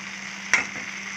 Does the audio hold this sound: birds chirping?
no